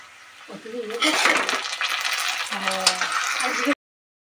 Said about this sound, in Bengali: মোচাটাকে আমি সবের মধ্যে দিয়ে দিলাম, দিয়ে এটাকে আমি গ্যাস লো করে আস্তে আস্তে ভাজতে থাকবো